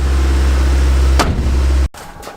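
A MazdaSpeed Protege engine idles with a steady low hum, then a clunk and the sound cuts off abruptly near the end.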